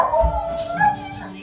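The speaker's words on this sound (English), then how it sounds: "As you can see, Franklin was still very nervous and barky." A nervous dog named Franklin lets out a few sharp, whiny barks and yips close by, fairly loud, with a high howling edge between them.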